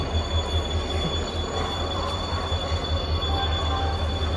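A small train pulls into Bhavnagar railway station with a steady, loud rumble, a sustained high wheel squeal running throughout, and a constant low mechanical hum.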